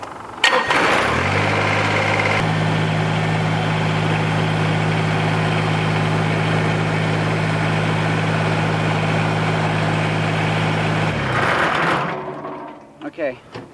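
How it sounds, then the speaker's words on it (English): A tractor engine runs steadily on a bee yard, a loud, close, even idle drone with a low hum that holds for about ten seconds before cutting off, followed by brief clatter. "we're going to position the tractor up behind it"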